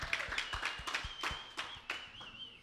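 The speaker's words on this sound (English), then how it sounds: "Let's give him a round of applause" Small lobby crowd clapping to welcome performer Tadhg at a live radio session, a dozen or so sharp claps in an uneven rhythm, close and fairly loud, with a high whistle-like tone running underneath.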